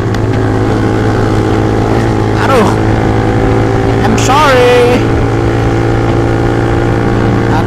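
Motorcycles on a Sunday morning ride keep up a loud, steady engine drone, and a couple of rising revs stand out above it. A voice speaks briefly over the engines.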